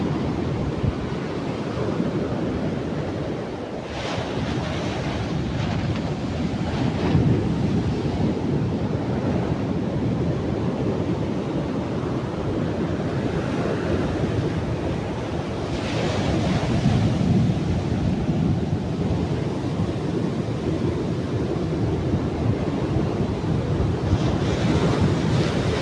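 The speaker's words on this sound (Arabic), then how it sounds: "الموج بدا كيطلع" Winter sea waves breaking on Safi beach in Morocco: a continuous loud roar of surf, swelling and easing every few seconds, with heavy wind buffeting the microphone and no speech.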